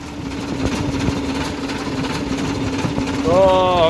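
A tractor engine runs at a steady, droning idle close by, with a rising mechanical whine swelling in near the end.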